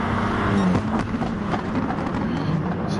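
Super Group 3 race car with a Ford engine, racing at Circuit de Barcelona-Catalunya, gives a steady, loud engine drone over trackside noise, with a commentator talking over it.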